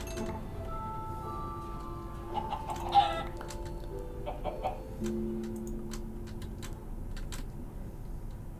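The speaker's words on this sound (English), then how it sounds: "Hello, chicken." A chicken in Minecraft clucks in short scattered bursts over a quiet, low ambient background with faint clicks and tones.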